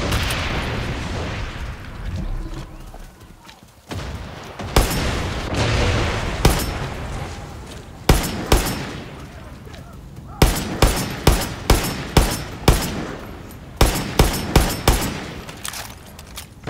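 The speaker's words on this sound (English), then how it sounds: "people are shooting up the big fuel tanks near you." Gunfire hits big fuel tanks in the video game Far Cry 6: rumbling explosions first, then a long series of sharp, loud shots and impacts that come in quick bursts, with no one talking.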